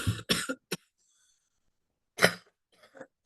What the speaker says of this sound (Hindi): बहुत ज्यादा खांसी हो रखा है